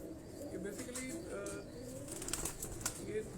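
Imamdi pigeons cooing softly on a rooftop in Johar Town, Lahore, with faint wing flaps and distant chirps under steady background noise.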